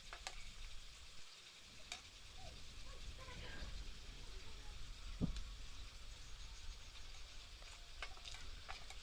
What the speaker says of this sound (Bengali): এরকম করে সবগুলো ভেজে নেবেন।